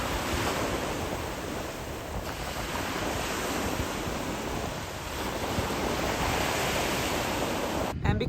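Steady surf washes ashore at a beach in Fremantle, a continuous broadband roar of breaking waves with wind buffeting the microphone, no voices, ending in a brief knock.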